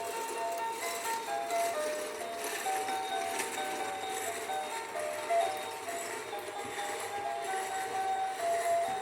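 A battery-powered toy Christmas train on a track whirs and rattles steadily with a melodic electronic jingle playing over it, continuous and fairly close, without a squeaky pitch.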